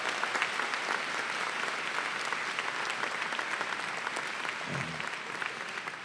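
A graduation ceremony crowd applauds steadily, a dense wash of distant clapping that holds at an even level throughout.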